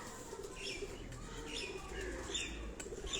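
Pigeons of mixed colours and breeds kept in a rooftop cage in Rawalpindi give soft, low coos with occasional brief wing flutters, faint and somewhat distant over quiet background noise.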